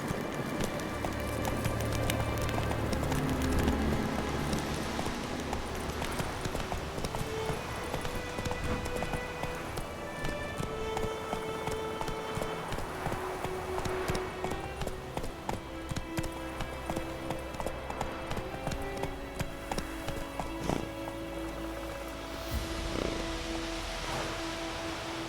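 Roach the horse gallops in The Witcher 3 with a steady rhythmic clip-clop of hooves that runs throughout, close and fairly loud.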